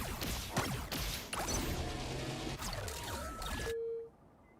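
Explosive bomb blasts and whooshing impacts from Marvel Rivals gameplay, a dense run of loud crashes and swishes over about four seconds that cut off abruptly, leaving a short faint tone.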